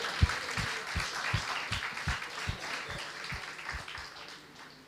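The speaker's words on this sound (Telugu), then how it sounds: "ఒక్కసారి చప్పట్లు దేవుడికి" A church congregation claps for God in an even, rhythmic beat, about three claps a second, moderately distant and fading slightly toward the end.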